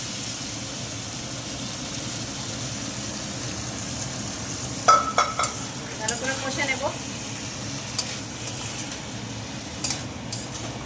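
Boiled chickpeas mixed with a few peas being stirred in a pan for ghugni, a soft steady sizzle under a low background hum with a few clinking spoon scrapes from the middle onward.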